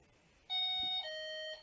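Electronic pairing beeps from a Delkim Txi-D bite alarm and Rx-D receiver carp-fishing set, two clear sustained tones in quick succession, the second pitched differently, close and isolated.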